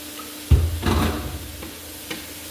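Meat and vegetables for pinakbet stirred in a pan, a few scraping, clattering strokes of a utensil against the pan over a faint sizzle, close and fairly loud, with a softer tap near the end.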